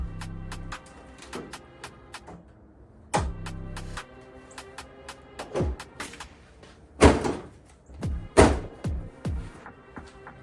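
An aftermarket hood on a 2007 Dodge Charger is pushed down and latched, giving a string of sharp metallic clunks and clicks at irregular intervals, close and fairly loud, with a low hum in places and no talk.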